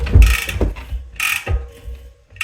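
SRAM Red XPLR 13-speed cassette being threaded onto a bike hub, giving a few close metallic ratcheting clicks and clunks in uneven bursts.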